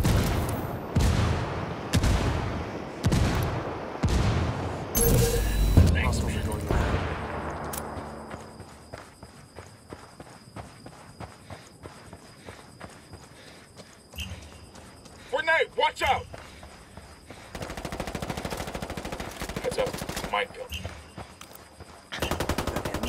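Sharp, loud bursts of rapid automatic gunfire in the open-world shooter Ghost Recon Wildlands, followed by a quieter stretch of scattered shots and more volleys, with voices talking over the firefight.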